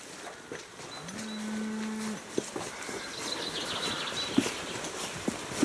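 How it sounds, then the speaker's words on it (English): A cow lets out one clear, sustained moo at moderate distance, set against outdoor background noise with a few faint knocks and clip-clop sounds. "Our neighbours. There's the cow."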